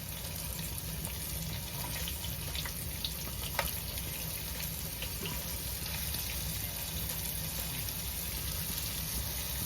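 Pieces of beef sear in a hot pan for a stew, giving a continuous, even sizzle and crackle with scattered small pops, steady and moderately close with no talking.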